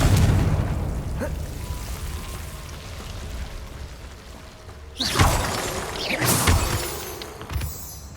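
A Confringo blasting spell explodes in the game Hogwarts Legacy, a sudden booming burst with shattering debris that decays over a couple of seconds, following a softer rumbling ambient stretch.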